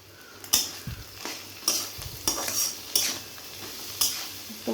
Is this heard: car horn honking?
no